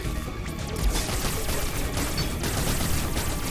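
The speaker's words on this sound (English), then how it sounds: "Rapid fire." Rapid-fire blaster shots from Samus's arm cannon in Metroid Dread, a dense continuous burst of crackling impacts and explosions lasting several seconds, loud and busy with no talking.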